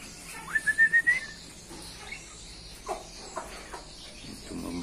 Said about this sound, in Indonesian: suara merbah, coba lihat suara merbahnya